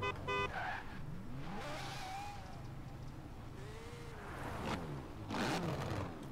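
A Lamborghini in a racing video game, idling in a car park, revs hard in repeated sweeping bursts, rising and falling pitch with tire-like squeals, loud and alone without talk.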